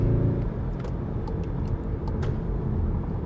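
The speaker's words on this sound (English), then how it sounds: "I'm starting to like the sound of the exhaust, guys." A Volkswagen Golf R exhaust rumbles with a deep, steady tone while the car cruises, a continuous low drone heard from the cabin with no speech.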